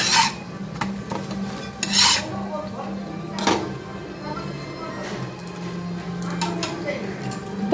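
Utensils scrubbed by hand while washing up after cooking mutton in a kadai, with rough rasping strokes in short bursts over a low steady background hum.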